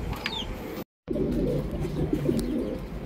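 Racing pigeons coo from a loft in Pasacao, Camarines Sur. Soft low coos repeat close by over a steady background hum, and a brief dropout interrupts them.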